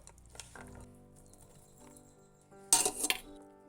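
Boiled potatoes being mixed into chana chaat in a bowl, with quiet scraping and stirring followed by a louder burst of clinking utensil against the bowl near the end.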